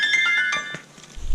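A phone ringtone chimes in bright, clear tones for under a second, then fades into quiet.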